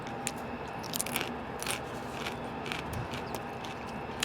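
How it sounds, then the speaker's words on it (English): Several crisp bites and crunches into a crispy Guatemalan street-food taco shell with onions, sharp cracking bursts close up followed by softer chewing. "That might be the crispiest taco shell I've ever experienced."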